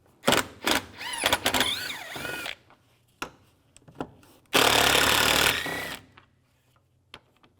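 Power driver with a T30 socket removing screws from a 2004-2010 BMW X3 front bumper cover, short whirring bursts separated by pauses and clicks, then one longer steady run, close and fairly loud.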